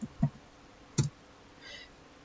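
Two sharp computer mouse clicks, close and fairly quiet, about a second apart, during French 3D modelling software work; a faint soft rustle follows.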